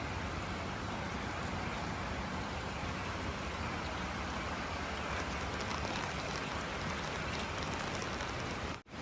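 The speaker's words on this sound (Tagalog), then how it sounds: "Ang lakas na ng ulan." Heavy rain pours steadily over a succulent garden, a dense, even hiss of drops on surfaces that stays loud and unbroken throughout, with no voices.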